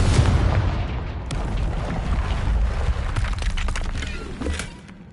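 A Confringo blasting spell detonates in Hogwarts Legacy, giving a loud booming blast with a deep low rumble and crackling bursts of debris that roll on for several seconds before fading at the end.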